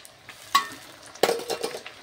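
Chopped tomato goes into a pan of softened onion for chicken curry, giving a soft sizzle with a few sharp clinks and stirring scrapes close by.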